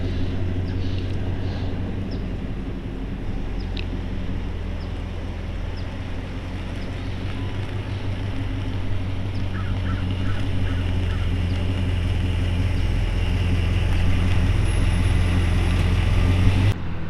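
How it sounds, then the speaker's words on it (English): A 1957 Chevy 210 two-door post resto-mod with a V8 and Flowmaster-style mufflers idles steadily with a deep, even exhaust burble, close and continuous, growing slightly louder toward the end. "Nice Flowmaster style mufflers on it, got a nice sound."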